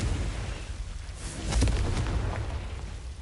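A Confringo blasting spell bursts in Hogwarts Legacy with a loud, rumbling explosion that swells midway and trails off into a steady roar, with no one talking.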